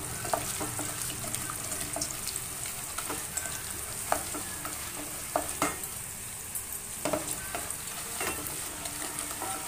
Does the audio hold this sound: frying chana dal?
yes